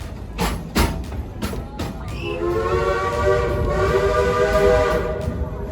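A few sharp bursts ring out, then a loud, sustained train whistle blows with a rich, layered tone for several seconds before fading, at the Silver Dollar City theme park.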